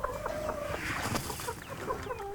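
Hens cluck and chatter in a busy farmyard, several birds overlapping at moderate distance with steady background noise.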